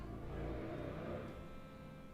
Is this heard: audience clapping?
no